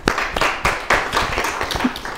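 Scattered hand claps in a classroom, a handful of sharp irregular claps from a small group, fairly close and loud, with no talking over them.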